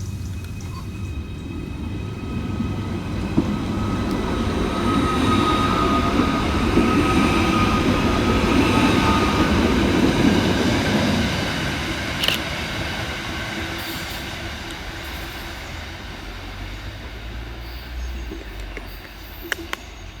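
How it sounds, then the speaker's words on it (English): A Merseyrail class 777 electric train, unit 777-142, pulls out of Headbolt Lane station for Liverpool Central, a steady rolling rumble with electric whine that swells then eases away, with a few faint clicks and no talking. "Next out to depart is 777-142, working the 1158 Merseyrail electric service from Headbolt Lane through to Liverpool Central."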